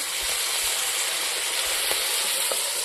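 Ground onion-garlic and spice pastes sizzle steadily in hot oil for a village-style mutton curry, a loud, even frying hiss with a few faint stirring taps, no voices.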